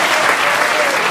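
A snooker crowd at the world championship applauds, a dense and steady wash of clapping that fills the whole moment at full volume.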